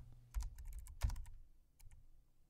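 Quick bursts of keystrokes on a computer keyboard are close and clear in a quiet room, with irregular clusters of soft clicks separated by short pauses.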